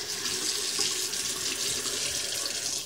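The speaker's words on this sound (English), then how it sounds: "Now, turn on your water, run it under the water." Tap water running steadily from a faucet into a sink while an Xbox 360 disc is rinsed under the stream, a continuous close hiss and splash with no voices.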